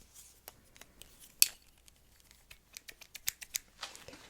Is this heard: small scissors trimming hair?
yes